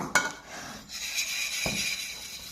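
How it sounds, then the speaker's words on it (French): Metal whisk beating a quiche filling of thyme, goat cheese and spinach in a bowl, giving a few sharp clinks against the side over a steady soft scraping swirl, close up and quiet. "Je mélange un petit peu. J'utilise le fouet."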